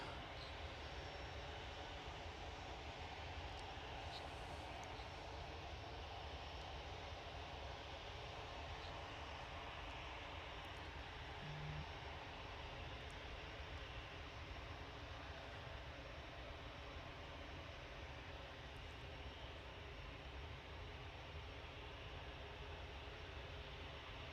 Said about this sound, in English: Behind that we've got a Ryanair going to Berlin.